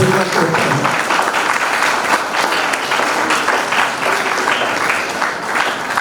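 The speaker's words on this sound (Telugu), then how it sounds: "అందరూ కూడా చప్పట్లతోటి వారికి అభినందన తెలుపు" An audience at a Sneha Society function breaks into sustained, lively clapping that fills the room evenly from start to finish. A faint voice is heard under the applause.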